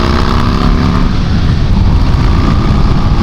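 A Buell motorcycle on a ride toward Aubrey, Texas, delivering a loud, steady roar of engine and wind noise that stays constant throughout, with no break.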